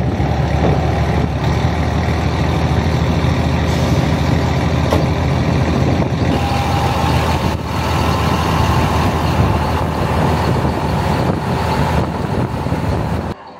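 Truck engine idles with a steady, loud, broadband rumble close to the mic, wind buffeting over it and no talk.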